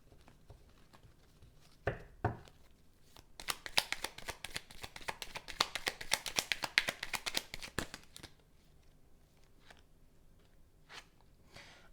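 Tarot cards are shuffled in a fast riffle, a dense burst of crisp flutters after a couple of separate taps, then a few scattered clicks.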